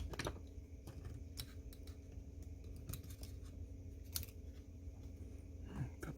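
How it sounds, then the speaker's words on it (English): Small scissors snip excess Kapton tape on an HO-scale Kato NW2 model locomotive, making a few quiet, crisp clicks close up over a soft background hum. "Cut the excess off"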